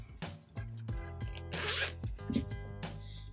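The zipper on a small pocket of a Muji pencil case, heard up close in several quick zipping strokes, including one longer rasping pull in the middle.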